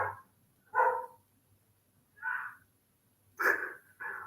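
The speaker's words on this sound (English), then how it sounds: "that was my dog barking, and my wife yelling at my dog for barking." A pet dog barking indoors during a live weather broadcast, with four separate muffled barks spread across a few seconds and near-silence between them.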